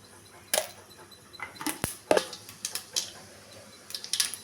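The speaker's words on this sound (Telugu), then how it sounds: "ఇప్పుడైతే తాలింపు గింజలు వేసుకుంటున్నానండి" Tempering seeds crackle in hot oil for a bottle gourd curry, with scattered sharp pops and snaps at an irregular pace over a quiet background.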